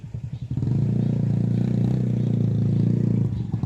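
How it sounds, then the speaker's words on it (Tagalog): A motorcycle engine idles and then rumbles steadily as the bike rolls in nearby, a loud continuous low drone with a little clatter. "Uy, may nakapasok na motor."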